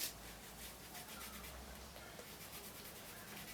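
A board being wiped clean of writing, a steady soft rubbing and scrubbing that continues without a break for a few seconds, close and quiet, with no speech over it.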